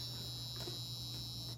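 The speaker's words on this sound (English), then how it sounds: "Buzzer on, kind of hear that through the camera." A faint electronic buzzer switched on from a software dashboard holds a steady high-pitched tone for under two seconds, quiet and captured indirectly through a camera.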